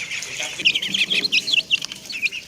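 Chicks and ducklings chirp and peep busily at their cage, a near, continuous flurry of short high calls with small bursts of wing or body movement.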